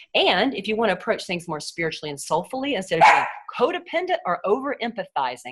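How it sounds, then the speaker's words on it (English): A pet dog barks in the background at home while a person keeps talking over it, the barks short and partly buried under the speech. "I apologize for my silly dog. I don't know what she's barking about."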